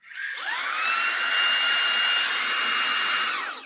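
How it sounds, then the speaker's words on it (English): A Eufy H30 vacuum cleaner switches on in max mode, its motor whine rising quickly to a steady, loud high-pitched drone with whistling tones that holds for a few seconds and then begins to wind down, with no talking. "I'm going to turn the vacuum on basically right now. Here we go. So this is max mode."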